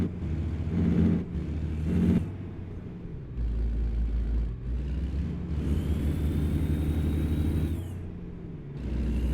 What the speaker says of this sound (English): It's an N14, custom N14, Cummins N14 engine.